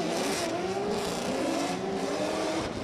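Drift cars launch together at a drift competition arena, engines roaring loud and steady with a rising whine throughout.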